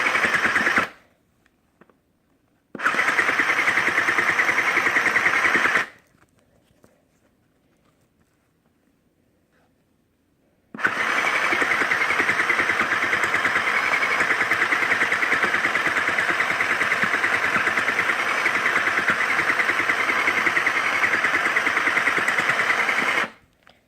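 A Sew Cool toy sewing machine stitches fabric in fast, steady mechanical rattling bursts, running for a few seconds, pausing, then running again for a long stretch, loud and close with no talking.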